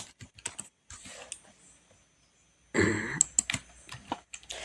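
Typing on a computer keyboard while writing JavaScript code, with close, quick bursts of key clicks separated by short pauses and a denser flurry of keystrokes near the end, no voices present.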